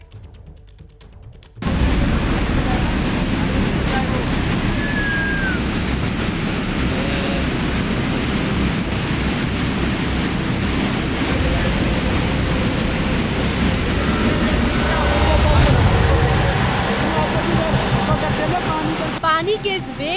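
Raging floodwater rushes near Yamunotri in Uttarakhand, a loud, dense roar of water that surges in abruptly after a quieter opening and continues unbroken to the end.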